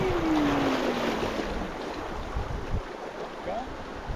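Sea waves wash and churn around a small homemade boat out at sea, a steady broadband rush mixed with wind buffeting the microphone.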